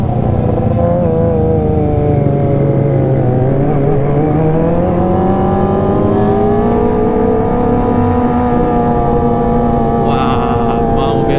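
A Kawasaki ZX25R with a LeoVince LV10 exhaust revs hard and steadily, its loud engine tone climbing and holding across the whole stretch, close and continuous, with no talk over it.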